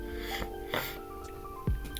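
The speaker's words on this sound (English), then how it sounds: "Sorry if I sound congested or you hear me sniffling." A congested, slightly sick person sniffles indoors, with a couple of short, sharp nasal sniffs close to the microphone over a faint steady background hum. No talking.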